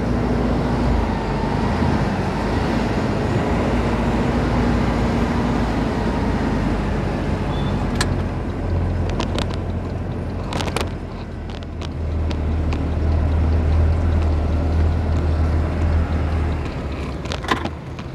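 A moving truck maneuvers on a tight residential street, its engine idling and rumbling loudly throughout, with low revving later on and scattered clicks and knocks.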